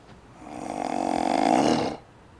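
A person snores while asleep, one long rasping inhaled snore swelling over about a second and a half and then stopping, close and fairly loud with no talk.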